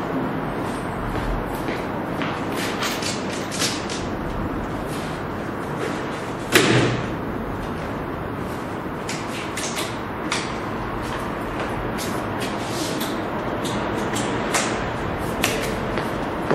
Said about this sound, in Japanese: スライドアウトを閉じたんで、今からルーフを下ろします。